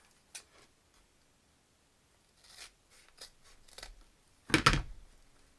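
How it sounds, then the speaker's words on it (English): Scissors snip through ribbon for a Valentine wreath, a few soft scattered cuts building to one louder close crisp snip near the end, with quiet pauses between. "Then I get my scissors."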